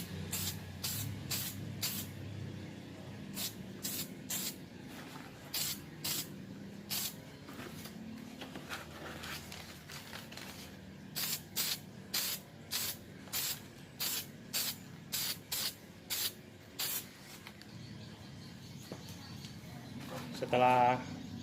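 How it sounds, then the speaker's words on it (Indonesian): Grey primer sprayed from a can onto a car fog lamp reflector in short repeated bursts of sharp hiss, close and loud, separated by brief pauses, with a rattling shake near the end. "Selanjutnya kita semprot dengan primer grey"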